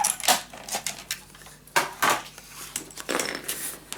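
Paper for a scrapbook mini album is scored and cut, giving a series of sharp, close scratching strokes and taps with brief pauses between them.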